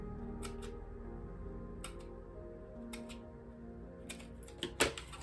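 Scissors snip paper for a card-craft high heel shoe, making several short, crisp cuts spaced apart with quiet handling noise in between.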